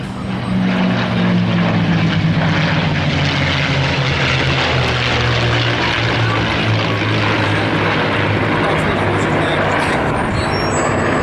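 P-51 Mustang fighter with a Packard-built V1650 Merlin engine flying, a loud continuous propeller and engine roar with a steady low drone holding throughout, close and dominant.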